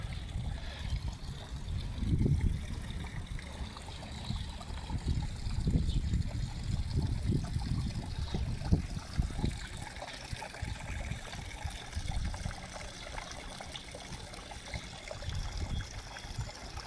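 Water spills over rocks in a backyard pond waterfall, a steady close splashing and trickling with gurgling surges, alone without talk.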